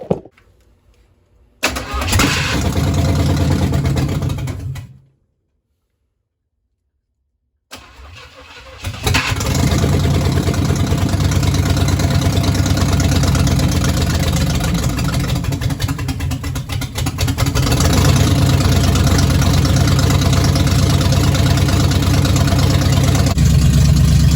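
A 350 engine that sat unused for 27 years cranks and catches, then runs with a loud, steady rough rumble after a brief cutout and restart, idling continuously up close.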